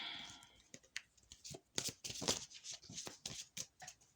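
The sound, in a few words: shuffling oracle card deck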